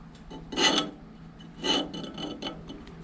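A scriber drags across a steel exhaust flange for a Toyota Starlet 4E-FE turbo downpipe, making two distinct gritty scraping strokes up close, followed by fainter scratchy rasps.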